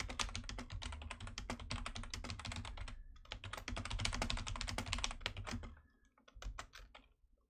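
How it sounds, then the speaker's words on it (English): Rapid, continuous typing on a very loud computer keyboard right beside the microphone, clicky keystrokes in dense bursts with a short pause near the end. "I feel like this is the loudest keyboard ever, and it's right next to my mic"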